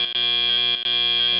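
An electronic buzzer signals the end of the autonomous period at a FIRST Tech Challenge robotics qualifier match; a loud, steady, high tone sounds alone, broken by two brief dropouts.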